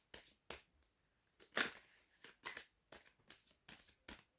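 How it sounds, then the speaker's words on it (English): Tarot cards shuffled up close in a quiet room, giving about ten separate papery riffles and slaps spaced at irregular intervals, with near silence between them. "I'll give the cards a really good shuffle"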